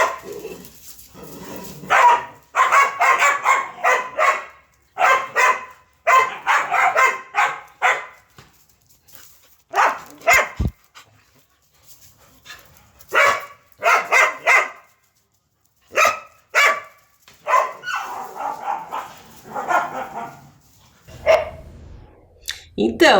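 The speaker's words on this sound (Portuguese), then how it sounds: "esse ficou muito nítido, que é um cachorro. Ou será que são mais de um cachorro?" Several dogs bark in repeated bursts of sharp, loud yaps with brief pauses between them, sometimes overlapping as if more than one dog is calling, with occasional softer whimpers.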